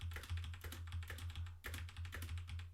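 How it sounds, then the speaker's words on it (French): Rapid clicky typing on a mechanical keyboard during a hardware hacking session, a steady close run of keystrokes with no talking. "Vous avez bien le bruit du clavier."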